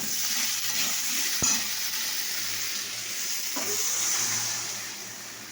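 Water goes into food frying in a pan, a steady sizzle with a sharp tap and a brief surge, then the hiss swells and slowly fades.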